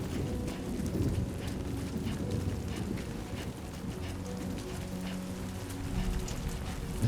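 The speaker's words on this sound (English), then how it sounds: "Rain. Gotta move." Steady rain in the video game Death Stranding 2, a continuous wash of patter with a low windy rumble beneath, constant and with no talk.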